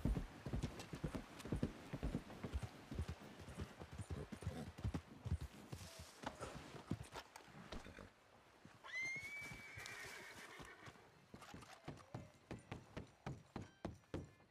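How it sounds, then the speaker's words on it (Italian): Horse hooves clip-clop steadily in the Western Legends video game, a close, rhythmic trotting with a brief whinny partway through and occasional thunks, heard without talk. "perché è arrivato stanco il mio cavallo?"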